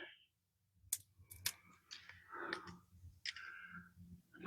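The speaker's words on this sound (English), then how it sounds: "just snip it right there" Pruning shears snipping a camellia cutting: scattered quiet clicks and rustles, then a sharp close snip at the very end.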